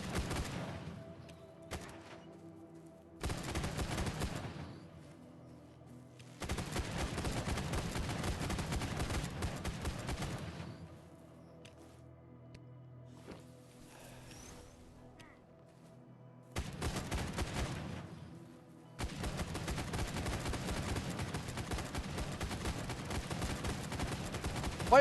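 Bursts of video game gunfire come in loud, dense volleys separated by quieter gaps, with rapid automatic shots and heavy booms recurring across the span.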